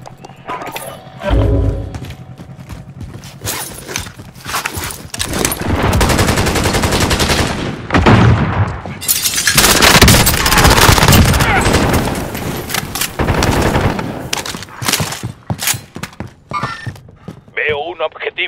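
Rapid bursts of gunfire in Call of Duty: Warzone crackle loudly in repeated volleys, with pauses between strings of shots and voices talking over the action.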